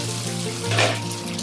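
Chicken Shinwari karahi simmers under a lid on low-medium heat, a steady close bubbling hiss with a faint brief swell midway and no voices.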